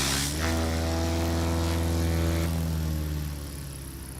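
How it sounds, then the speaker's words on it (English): A Cardinal light aircraft at a STOL practice event, its propeller engine droning loud and steady nearby, then easing slightly and fading toward the end, with no voices over it. "What is that aircraft? That is a Cardinal."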